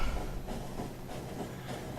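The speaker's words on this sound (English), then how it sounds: "let's just ride the train out" A train rides along its rails in the video game Factorio, giving a steady, moderately loud rolling rumble with a soft hiss and a faint, loosely rhythmic clatter, with no talking.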